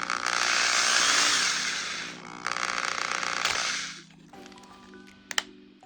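Power drill whirs steadily through a hole during a hat-light kit installation, a loud continuous high whine for about four seconds that drops in pitch briefly, then cuts out, followed by quiet clicks and a sharp tap.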